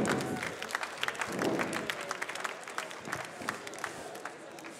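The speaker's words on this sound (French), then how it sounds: "on l'applaudit bien fort" A crowd at a coffee brewing competition at SIRHA applauds a competitor, sustained moderately faint clapping with scattered sharp claps from a sizeable audience.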